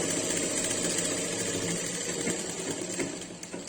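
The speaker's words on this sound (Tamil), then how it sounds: "அது மேலேயே படிமானம் தையல் போடுறோம்" A sewing machine stitches a top-stitch seam on cloth for a baby garment, running continuously at close range with a fast, even mechanical whir.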